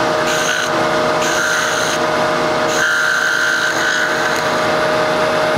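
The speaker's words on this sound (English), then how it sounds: "I'm going to use this as my roughing gouge and my turning gouge. So we're going to round it off." Wooden hummingbird birdhouse blank being roughed round on a wood lathe with a roughing gouge, a steady loud whirring cut with a constant motor hum and repeated scraping passes, no talking.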